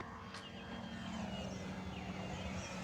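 An OMP Hobby Bushmaster 65-inch RC plane flies around a bowl, its electric motor and propeller giving a steady, fairly faint drone with no talk.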